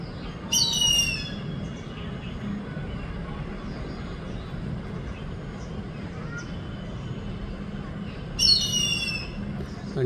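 Two brief harsh calls stand out at the start and again near the end, well above a steady hum of background noise. The clip may also include an Indian eagle-owl and an Indian grey hornbill.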